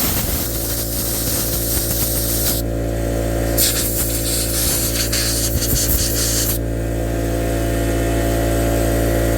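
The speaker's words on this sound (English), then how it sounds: "I'm gonna go ahead and spray this bearing out." Electric contact cleaner sprayed into the bearing of a brushless motor from an RC boat, a steady hissing aerosol blast running close and loud through most of the stretch, broken by short pauses, over a constant low background hum.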